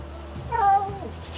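A cat in a home with a Border Collie lets out a single drawn-out, wavering meow, close and fairly loud over a low background.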